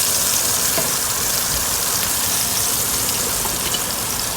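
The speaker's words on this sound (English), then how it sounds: "I'm throwing those onions in." Onions sizzle loudly in a hot pan set on lowered heat after beef brisket has been cooked in it, a steady dense hiss with no breaks across the whole stretch.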